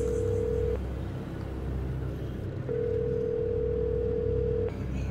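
An outgoing phone call rings without answer, its steady ringback tone pulsing on and off twice over a constant loud rumble of background noise.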